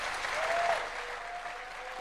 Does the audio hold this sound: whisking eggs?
no